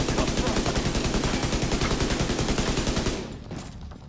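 Sustained automatic gunfire from a 60-round gun in The Division 2, a rapid, steady stream of loud shots for about three seconds before cutting off into quieter game ambience.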